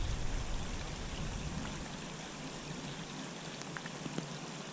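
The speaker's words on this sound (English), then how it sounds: "rain's starting to come down a little bit harder again like it was earlier" Rain falling steadily onto a slough pond in a Florida state forest, a dense, even patter of drops across the water surface, close and continuous with no voices.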